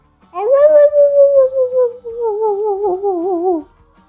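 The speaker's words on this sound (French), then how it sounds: "Il va entendre les chiens d'abord." A single dog howls in a long, wavering, drawn-out tone that rises and falls for a few seconds, close and fairly loud, then stops.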